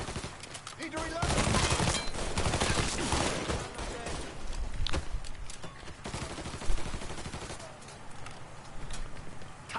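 Gunfire in Mafia 3 during a cover firefight, dense bursts of shots and rapid automatic fire rattling steadily over about ten seconds, with some game voice chatter mixed in.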